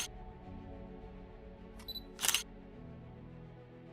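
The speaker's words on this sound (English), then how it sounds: "wait for the device to capture the image with the capture sound" UIG WATCH gold detector giving its image capture sound, a short electronic beep followed by a brief shutter-like click over quiet background.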